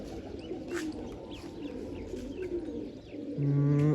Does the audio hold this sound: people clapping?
no